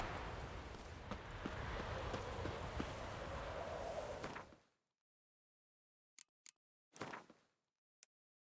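Hoofbeats from a horse galloping in The Witcher 3 video game, a dense fast clatter for about four and a half seconds that then stops dead, followed by a few short isolated knocks and scrapes in the silence.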